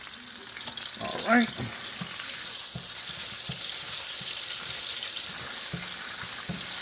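Minced garlic fries in a pan for beef and broccoli with a steady close sizzle and hiss, a few soft stirring knocks, and someone speaking a couple of words briefly.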